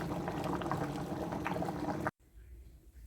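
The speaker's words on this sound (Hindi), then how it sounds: "मिक्स करेंगे अच्छी तरह से और इनको बॉयल आने तक का वेट करेंगे" Rice simmers in water for aloo tahari pulao, a Hyderabadi potato rice dish, making a continuous bubbling, gurgling boil at moderate level that cuts off abruptly near the end, leaving a quiet background.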